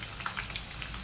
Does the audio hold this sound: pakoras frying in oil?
yes